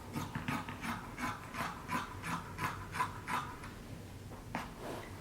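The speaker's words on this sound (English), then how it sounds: "You're going to cut around your fabric." Scissors snipping through fabric while cutting out a homemade cape, a run of repeated rasping cuts in steady rhythm, close and moderately quiet, with a short pause before a final few snips.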